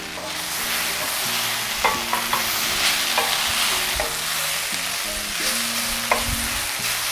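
Vegetables sauté in a hot pan with pepper and oregano, a steady sizzle broken by occasional scrapes and clinks as they are stirred, close and unaccompanied by voices.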